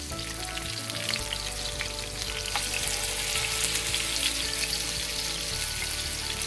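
A thick spicy red snapper fillet marinated with lemon juice and chili powder frying in a pan over low heat, a steady, even close sizzle with soft crackles throughout.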